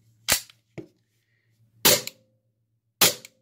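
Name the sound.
Smith and Wesson M&P9 airsoft pistol firing shots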